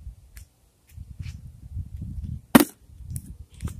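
A plastic bottle flipped for a trick shot lands with a single sharp knock, close and brief, amid faint handling sounds and quiet shuffling.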